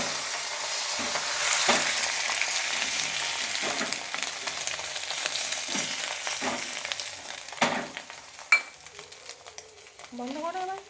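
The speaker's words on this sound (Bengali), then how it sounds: "এখন ডিম টোস্ট করব" Egg toast frying in a pan in a home kitchen, a continuous sizzle broken by stirring scrapes and sharp pan knocks, with a voice briefly rising near the end.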